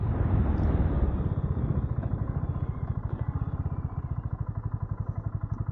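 A BSA Goldstar 650 single-cylinder motorcycle engine on the move, a loud, close, steady thumping beat with rapid regular pulses that stay dense throughout.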